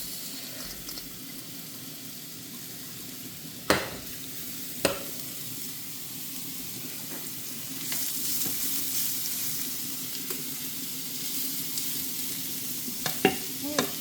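Carrots frying in heated oil in a home kitchen give a steady, moderate sizzle, broken by a few sharp clicks of stirring and a slight swell in the frying noise toward the end.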